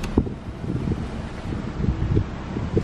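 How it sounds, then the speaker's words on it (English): Gusty wind buffets the microphone with low, rumbling thumps and a steady whooshing roar. "It is windy."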